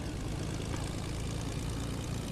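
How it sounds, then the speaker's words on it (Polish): Fortnite battle bus or airplane engine droning steadily throughout, a continuous low propeller-like hum with no breaks and no talking. "Wsiadam do samolotu, szybko."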